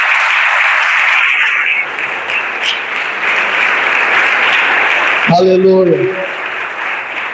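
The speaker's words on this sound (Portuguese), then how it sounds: "Você pode aplaudir o Senhor" A church congregation applauds in a steady, dense wash of clapping that fills the room, and a voice calls out over it near the end while the clapping carries on.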